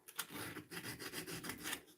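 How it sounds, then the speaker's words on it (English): A wood carving is sanded by hand in quick back-and-forth rubbing strokes, a close, soft, rhythmic rasp repeating steadily for two seconds. "give his cheeks a nice good sanding here."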